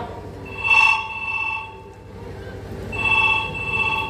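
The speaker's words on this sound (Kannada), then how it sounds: "ಇದು ಯಾವ್ದು ಫೋನು?" A telephone rings in two bright, trilling bursts separated by a short pause, clear and fairly close in a quiet room.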